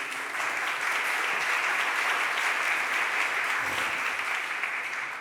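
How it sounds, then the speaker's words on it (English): Sustained applause fills a city council chamber at a stated meeting of the Philadelphia City Council, steady and dense from start to finish with no talk over it, easing slightly at the very end. "Let's give them all another round of applause, please."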